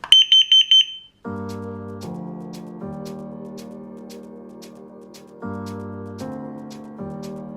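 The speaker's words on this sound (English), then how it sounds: "This is our carbon monoxide alarm, so we just check that the batteries are still working and the alarm is still working for this one." A home carbon monoxide alarm under test sounds four quick, loud, high-pitched beeps, then gives way to a sustained multi-tone chime pattern that shifts pitch several times, close and alone.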